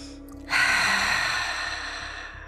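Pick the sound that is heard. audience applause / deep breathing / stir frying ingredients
deep breathing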